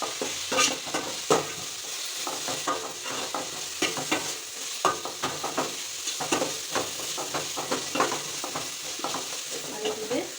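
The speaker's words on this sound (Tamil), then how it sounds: "இஞ்சி பூண்டு பேஸ்ட் போட்டுட்டு அது நல்லா அதோட பச்சை வாசம் போகிற அளவுக்கு வதக்கி போங்க" Ginger garlic paste sautéing in hot oil for fish biryani, with a constant hissing sizzle and irregular spatula scrapes and taps against the pan, close and without voices.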